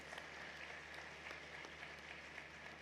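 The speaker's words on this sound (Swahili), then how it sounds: "Tunaomba tuwapigie makofi panelists wetu" Audience applauding panelists at a women's empowerment debate event, a steady continuous wash of many hands clapping, quiet and distant, lasting the whole stretch without a break.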